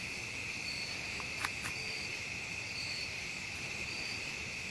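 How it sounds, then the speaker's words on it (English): Crickets chirp steadily outdoors on a cool, moonlit September evening, a continuous high insect trill with faint pulses, no voices. "So, yep, you can hear the crickets and stuff."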